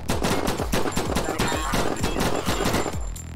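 Rapid, dense gunfire from the VR shooter Dimension Hunter, a loud continuous burst of automatic shots rattling without pause for the whole stretch.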